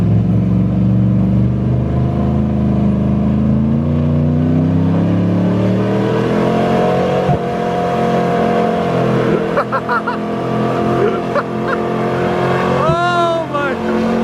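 A Ford truck engine revving hard and bouncing off its rev limiter during snow donuts, a loud, sustained, rising and falling roar close by, with voices talking over it.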